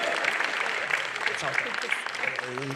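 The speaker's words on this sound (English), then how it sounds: "You guys can clap." A Breath of the Wild Q&A audience breaks into a burst of clapping that fills the space, steady and moderately loud, while a voice speaks briefly over it.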